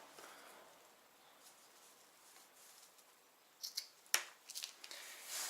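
Scissors snip through excess wingsuit legstrap bungee, a few quick close crisp cuts after a quiet stretch, faint overall.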